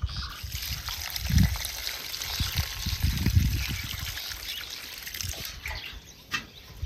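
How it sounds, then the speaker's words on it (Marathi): Chopped eggplant and other vegetables are rinsed in water, giving a close, continuous trickling and sloshing with soft knocks as the pieces are moved around. "आता हे आपल्याला धुवून घ्यायचे."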